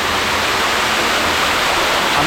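Water cascades down the stonework of an active reservoir overspill, a loud, steady, dense roar of rushing water with no break and no voices.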